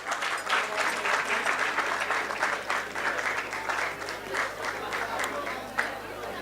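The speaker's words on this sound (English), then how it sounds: "Request you all to please give them a big round of applause." Steady, continuous audience applause at a university convocation ceremony, a dense even patter of many hands held throughout, moderately distant in a large hall.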